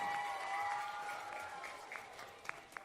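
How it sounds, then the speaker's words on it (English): Applause fills the room at an MLK Jr. oratory competition, a dense wash of clapping that slowly thins, with a few sharper claps near the end. "Let's give another round of applause to the Dance Conservatory and to J.C. Warren"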